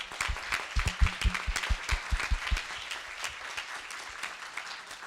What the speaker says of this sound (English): Big round of applause for everybody who pitched.